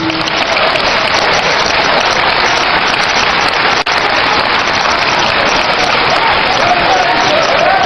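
Large crowd claps continuously at a national gathering in Ghana, a dense, loud, rain-like wash of applause that holds steady without a break.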